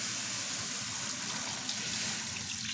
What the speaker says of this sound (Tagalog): Lalagyan na natin itong mga karne ng baboy dito sa kawali. Lagyan natin ng tubig.